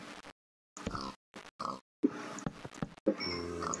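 Pigs in Minecraft give a handful of short, separate oinking grunts separated by silent gaps, close and clear, with no talking over them.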